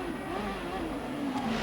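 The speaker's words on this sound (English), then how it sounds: "And you can hear it with the revs on the downshift, Paul." Juan Pablo Montoya's CART race car engine howls at high revs, the pitch wavering and dropping as it blips through downshifts, steady and fairly loud with a faint commentary voice underneath.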